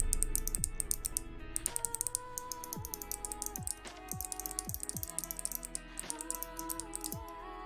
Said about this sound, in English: These are the clickiest switches you can get.